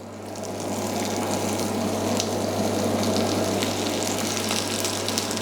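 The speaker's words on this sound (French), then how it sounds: "J'attends pas que mon beurre colore. Je mets tout de suite mes pommes de terre." Potatoes sizzle steadily in a pan of hot sunflower oil and butter, the butter not yet browned, giving a constant, moderate frying hiss over a low hum, with no one speaking.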